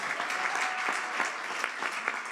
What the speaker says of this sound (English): we want to give a final round of applause to all of our speakers and authors